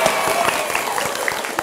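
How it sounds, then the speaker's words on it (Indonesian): A short, steady burst of audience applause, dense and fairly loud, with no clear voices over it. "Tepuk tangan."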